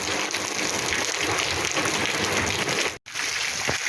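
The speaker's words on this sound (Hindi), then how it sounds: "अब तक की सबसे तेज बारिश है आई थिंक ये, जो इतनी तेज पड़ रही है, बहुत ही ज़्यादा तेज।" Heavy monsoon rain falls in a steady, loud downpour, a dense unbroken hiss with one brief dropout near the end.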